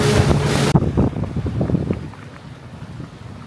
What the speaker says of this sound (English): So we finally arrived after about 45 minutes, I think, of boat ride. Noisy engine.